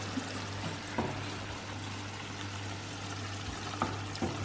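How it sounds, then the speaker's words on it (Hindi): Tomato puree stir-frying in ghee for malai kofta gravy, a faint continuous sizzle over a steady low hum, with a few soft stirring knocks. "हमने जैसे घी में हम अपनी प्यूरी को फ्राई कर रहे हैं, स्टर फ्राई"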